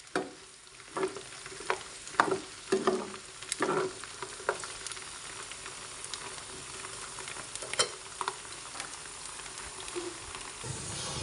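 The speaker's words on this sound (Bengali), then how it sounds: "এবার রসুনগুলোকে নেড়ে ছেড়ে নিব।" Garlic cloves sizzle and are stirred in hot mustard oil for a garlic pickle, a steady close frying hiss broken by repeated scraping clicks of a spoon against the pan.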